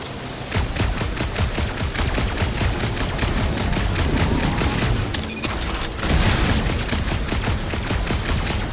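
Rapid gunfire from the Guardians of the Galaxy video game as shots hit a gunked-up reactor, a loud, dense burst of repeated shots with clanking impacts running throughout.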